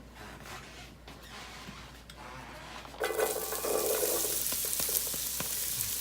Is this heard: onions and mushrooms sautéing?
yes